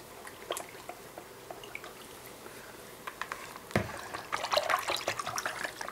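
Homemade BBQ sauce poured over ribs makes soft wet trickling and dripping sounds, faint at first and thickening into a denser, louder splattery flow toward the end.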